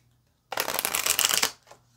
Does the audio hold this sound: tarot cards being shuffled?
yes